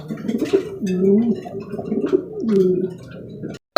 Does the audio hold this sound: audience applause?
no